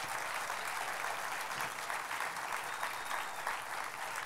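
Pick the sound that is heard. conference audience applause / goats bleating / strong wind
conference audience applause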